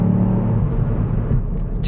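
A Ford Fiesta ST Edition drives along with a steady, loud low engine drone and road rumble heard from inside the cabin, holding an even pitch throughout.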